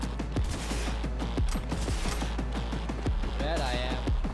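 Rapid gunfire in Cyberpunk 2077, with dense repeated shots in a busy firefight. It is loud and continuous under a steady game backdrop, and voices sound briefly near the end.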